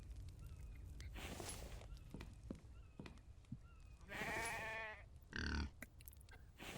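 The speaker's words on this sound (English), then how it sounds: "I think the sheep's inside. He sounds like he's inside." A sheep in a video game bleats twice, wavering and fairly close, as if from inside a building, amid scattered clicks and thumps over a low background hum.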